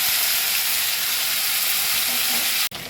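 Spice paste sizzling loudly in hot oil with frying potatoes, a dense, steady hiss that runs unbroken before a brief dip near the end.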